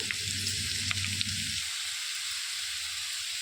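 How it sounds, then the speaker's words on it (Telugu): Dried red chillies sizzling in hot oil, a bright continuous crackling hiss with a lower rumble that drops away partway through, leaving the steady sizzle alone. "ఒక రెండు ఎండుమిర్చి ఇట్లా గిల్లి వేసుకోవాలి"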